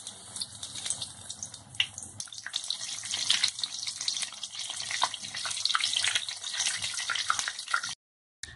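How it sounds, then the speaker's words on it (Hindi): Green chilli pakoras, stuffed and coated in batter, fry in hot oil with a steady, bright sizzle and crackle. It is close and fairly loud, carries no speech, and cuts off abruptly near the end. "अब हम इसे फ्राई करेंगे।"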